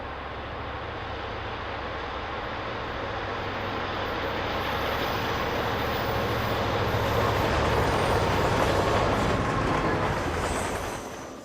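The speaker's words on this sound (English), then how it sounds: "Train 9, the westbound City of St. Louis, approaches our camera on Sherman Hill" The westbound Union Pacific passenger train City of St. Louis approaches on Sherman Hill near Remount, Wyoming, in the early 1960s, a loud steady rumble of engines and rolling wheels that swells as it nears and then drops off at the end.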